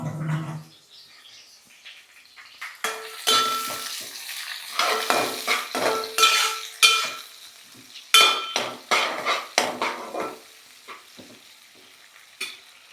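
Onions frying in a pan, with a soft sizzle under repeated close stirring and scraping bursts that come in uneven clusters, louder in the middle stretch.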